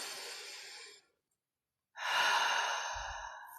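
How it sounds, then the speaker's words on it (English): A big deep breath: a long, close breathy inhale, a second of silence, then a loud, full exhale that trails off. "And then take a really big deep breath."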